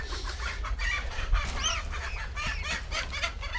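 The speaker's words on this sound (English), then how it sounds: "Good morning, chickens" Chickens cluck and a rooster crows nearby, the calls overlapping in a busy run of short squawks and rising cries close to the listener.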